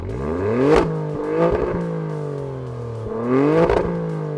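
An Alfa Romeo Stelvio Quadrifoglio's 90-degree V6 with an Akrapovic exhaust revs hard in three rising bursts, each climbing sharply, then dropping back to a throbbing idle between pulls.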